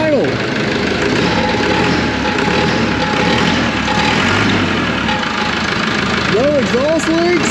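An auction roller's engine idles steadily with a constant mid-pitched rumble and faint knocking undertone, holding even throughout with no revving.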